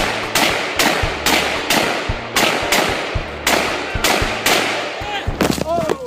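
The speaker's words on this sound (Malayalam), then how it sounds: "മരത്തിലൊരു എയിം സെറ്റ് ചെയ്തിട്ട് ഷൂട്ട് ചെയ്യുകയാണ് ഇവിടെ ഒരാൾ" Repeated gunshots fired at a tree, about a dozen loud sharp reports in a steady rhythm, each with a short decay, close by and dominating the scene with no other sound.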